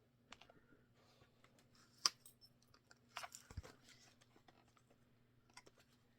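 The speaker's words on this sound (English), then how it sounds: "Oh, he found a chew. He's chewing on something." A dog gnaws on a chew, producing faint irregular crunching and clicking bites over a quiet room with a low hum.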